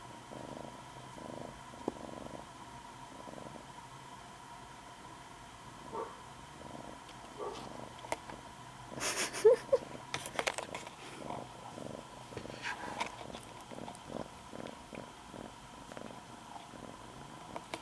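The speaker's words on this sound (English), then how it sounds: "Kitten." A kitten purring steadily and softly close by, a low continuous rumble with a few faint handling noises and brief clicks partway through.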